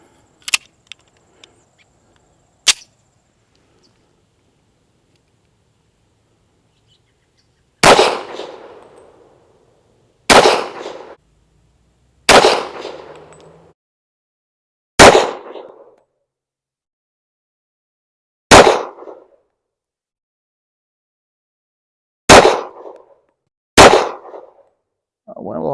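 Eight sharp pistol shots from a Rock Island Tac Ultra FS 1911 firing LAX range ammunition, two isolated early reports followed by a spaced string of six loud, ringing cracks, each with a short decaying tail, no talking.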